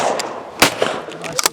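One shotgun blast at a clay target during flush shooting practice, a single sharp report cutting through nearby voices, with smaller pops and clatter after it.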